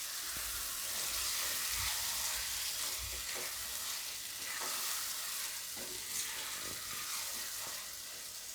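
Red chili powder and spices being stirred into a tomato curry in a pan, soft rhythmic spoon scrapes and bumps over a quiet, steady sizzle, fairly faint and close, with no one talking.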